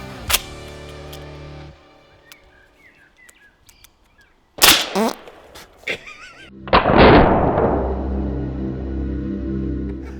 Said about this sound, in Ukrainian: такий собі вибух.